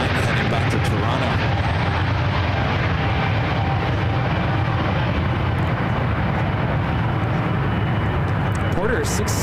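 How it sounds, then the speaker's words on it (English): A Porter Airlines jet roars on its takeoff roll at San Francisco International Airport, a loud, continuous rumbling thrust that fills the scene, with a voice talking over it. "Porter 670 taking off to Toronto."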